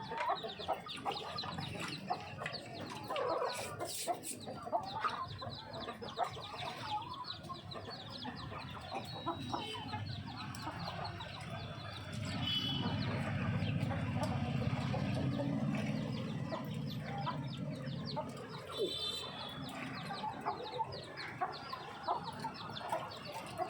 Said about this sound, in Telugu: వేరే కోళ్ళు ఏమైనా వస్తాయని అరుస్తున్నట్టుంది